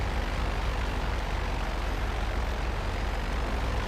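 Airplane engine in the GTA Online video game, a steady, loud broadband drone with a low rumble that holds constant throughout, no voices present.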